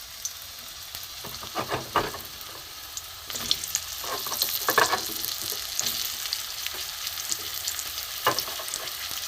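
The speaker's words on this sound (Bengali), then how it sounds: "এখানে আমি বেগুনগুলো প্রথমে ভেজে নেবো" Eggplant pieces fry in hot mustard oil in a wok with a continuous close sizzle, broken by louder scraping bursts as the pieces are stirred.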